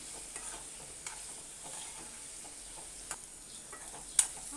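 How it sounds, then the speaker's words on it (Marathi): Red chili powder and spices sautéing in oil in a kadai while making kadai paneer, a steady soft sizzle with occasional light clicks and taps of a spoon stirring, quiet and continuous with no talking. "हे परतून घ्यायचं पाच मिनटं तरी आपण हे ना तेलामध्ये चांगलं परतून घ्यायचं आहे"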